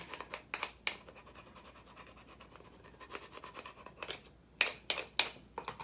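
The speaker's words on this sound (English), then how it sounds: "So just take my scraper and press down on there." A scraper presses and rubs across a Cricut vinyl design, giving close, dry scratching strokes in irregular bursts that grow louder and sharper toward the end, with no talking.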